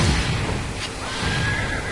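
A horse whinny rings out in the Brawlhalla video game, a short loud neigh over dense, noisy game sound.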